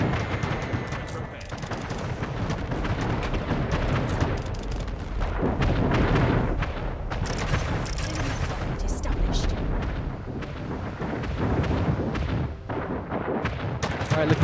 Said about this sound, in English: Second bombs are coming in now.